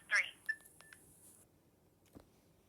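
Single short DTMF keypad tone pressed during an automated voicemail menu on a 2G GSM cell phone, a brief clean beep followed by faint clicks and quiet handling.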